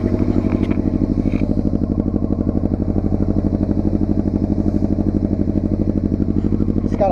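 A Honda F4i motorcycle with a Yoshimura exhaust idles close by with a rapid, even, throaty exhaust pulse that stays steady throughout.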